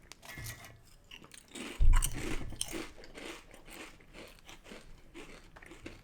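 Someone bites into a Carolina kettle cooked chip with a loud, close crunch, followed by a few seconds of softer chewing and crackling.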